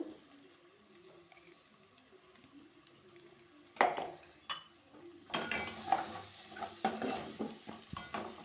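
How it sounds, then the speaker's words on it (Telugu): Chicken curry stirred in a pot after turmeric goes in, with a quiet opening followed by scraping and clinking of a spoon against the pan, growing busier and louder in the second half. "పసుపు వేసి ఇలా కలిపేసుకోవాలి"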